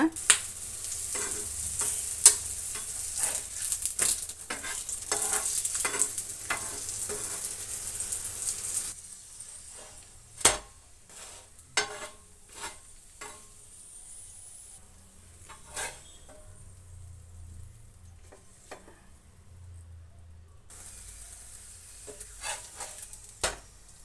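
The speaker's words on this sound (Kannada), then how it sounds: "ಈ ರೀತಿ ಆಯಿಲನ್ನು ಒಂದು ಸ್ವಲ್ಪ ಜಾಸ್ತಿ ಹಾಕಿ ಫ್ರೈ ಮಾಡ್ಕೋಬೇಕು" Food frying in a generous amount of oil in a pan gives a soft sizzle broken by frequent sharp clicks and taps of a utensil, busier at first, then sparser and quieter.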